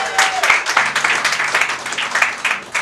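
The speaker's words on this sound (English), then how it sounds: "Let's give our host one more round of applause" A concert audience applauding the host, dense clapping from many hands, lively and sustained across the whole stretch, fairly close, with a brief voice at the start.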